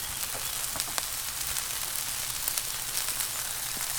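Bacon rashers sizzle on a Q griddle with a continuous hiss and scattered sharp crackles, close and steady throughout.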